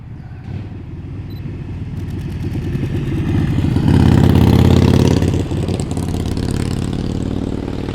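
Motorcycles ride past on a winding country road, their engines loud and close, swelling to a peak mid-way as a bike goes by, then easing as the next one follows.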